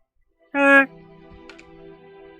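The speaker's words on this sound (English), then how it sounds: "my Vespa does have a horn." A Vespa scooter horn gives one loud, short, buzzy honk lasting about a third of a second, followed by a faint steady hum and a couple of small clicks.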